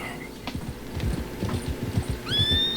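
In Red Dead Redemption 2, a horse's hooves thud in an uneven clip-clop close by, then a bright, shrill whinny rises near the end.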